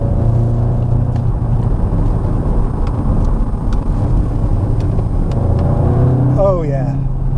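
A 2021 Mk8 Volkswagen Golf GTI Clubsport accelerates hard on a slightly greasy road in the UK. A loud, steady low engine and road rumble fills the cabin, and a voice briefly cuts in near the end.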